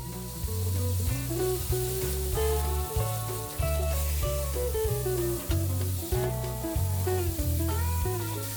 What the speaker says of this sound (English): now I'm going to sear the roast on all sides until I get a nice brown caramelization